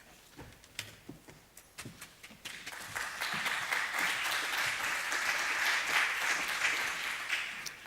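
A conference audience breaks into applause to welcome a speaker to the stage. Scattered claps at first swell into dense, sustained clapping that holds at a moderate distance.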